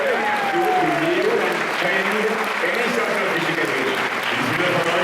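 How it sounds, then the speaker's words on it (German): A crowd at a Catholic healing service in Altötting, Germany claps loudly and steadily while voices carry over the applause the whole time. "Your hands and give a big applause."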